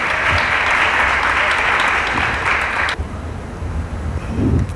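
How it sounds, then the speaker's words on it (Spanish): An audience breaks into loud, sustained applause to welcome a speaker at a talk, the clapping filling the first few seconds before thinning out into scattered claps and murmurs. "La vamos a recibir, por favor, con un fuerte aplauso a Maggie Leri"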